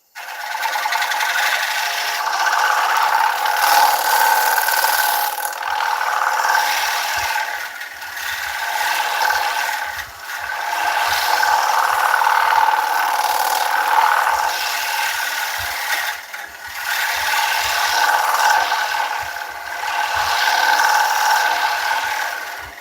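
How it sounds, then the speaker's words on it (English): Bowl scraper held against a thin oak live-edge winged bowl spinning on a wood lathe, a loud sustained rasping scrape that swells and dips in long waves as the tool moves across the surface. "when I come in with the bowl scraper, I can just, not so much cut, but scrape these tool marks out"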